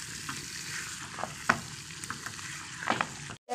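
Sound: potatoes and chicken frying in a pan

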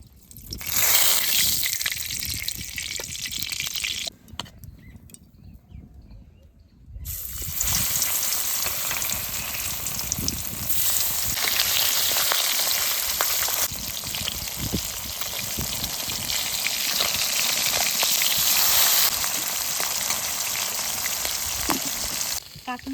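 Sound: fish frying in mustard oil in a wok

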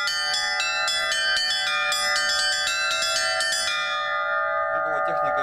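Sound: bells from Litex and Shuvalov foundries being rung

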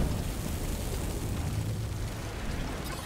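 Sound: Gjallarhorn rocket launcher explosion in a video game

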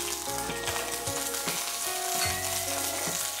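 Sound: green chillies frying in hot oil

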